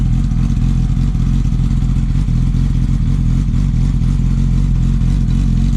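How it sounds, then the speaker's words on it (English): A 2014 Yamaha R6 motorcycle engine idles loud and close right after a cold start, a rapid, even, clattery exhaust pulse with no speech. "That right there is a cold start."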